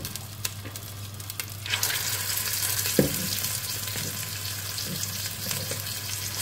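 Meat frying in oil in a pan over low heat for an apricot tagine: a steady, close sizzle with occasional stirring knocks and a low background hum.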